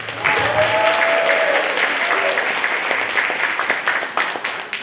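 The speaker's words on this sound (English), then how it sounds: "Let's cheer again." An audience at a United Nations women's meeting bursts into sustained applause and cheering, loud and close at first, with a few whoops early on, then the clapping thins out gradually.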